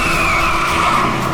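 A car skids with failing brakes, a loud continuous tire squeal with a steady engine roar holding for over a second at close range, with no voices.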